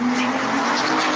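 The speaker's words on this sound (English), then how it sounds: "He turns around at the sound of a screeching car speeding right into him." A car speeds past with tires screeching, a loud, continuous squeal with a steady tonal whine over broad engine and road roar that fills the short moment.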